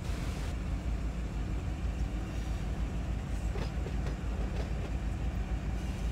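A simulated freight grain train in the Run 8 game pulls from a dead stop, giving a continuous low rumble of engines and cars with faint metallic clanks and creaks.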